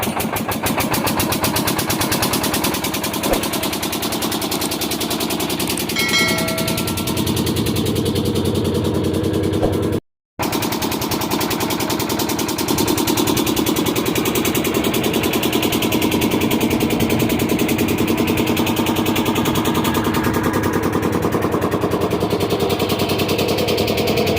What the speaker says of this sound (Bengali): আর নৌকা ছাড়লো এখন ওই পারে যাব আস্তে আস্তে